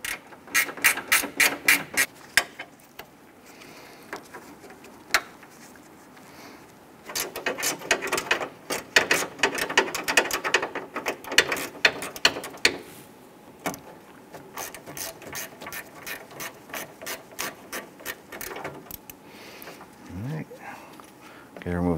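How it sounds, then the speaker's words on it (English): A 10 mm gear wrench ratchets while loosening a bolt on the A/C pressure switch bracket of a 2008–2013 Nissan Rogue. Bursts of rapid clicks run in several sets with short pauses between them, close and crisp, and someone talks in places. "Use your 10 millimeter gear wrench."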